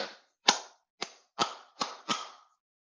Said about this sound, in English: Clapping as loud as I can.